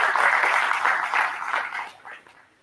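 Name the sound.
audience applause at marketing summit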